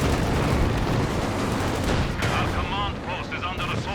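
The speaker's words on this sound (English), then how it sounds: "A wall of anti-tank here for this Panther." Anti-tank guns fire at a Panther tank in a Company of Heroes 2 4v4 battle on Lienne Forest, a dense wash of gunfire and blasts that continues as a commentator starts talking over it.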